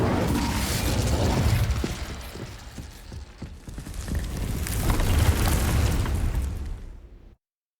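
A crackling, roaring burst of fire magic from Incendio in Hogwarts Legacy, with heavy low rumbling and scattered pops that swell twice over several seconds before cutting off abruptly. No voices.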